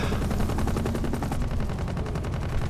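Rapid, sustained automatic gunfire in Batman: Arkham Knight, loud and dense throughout as shots are fired at a cage, with no voices over it.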